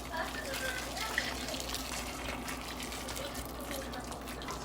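Boiling water pours steadily from a kettle spout, a continuous splashing gush with a faint voice in the background.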